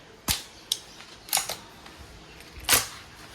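Crosman MagFire Mission break-barrel air rifle being cocked, a few sharp mechanical clicks and clacks spaced irregularly, close and fairly loud against a quiet background.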